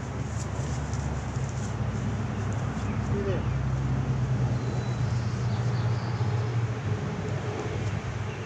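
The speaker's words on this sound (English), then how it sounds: "Sorry for the noisy traffic if you can hear it." Steady rush-hour road traffic at a horse-washing area outdoors forms a constant low rumble and hum that runs unbroken throughout, with a faint voice underneath.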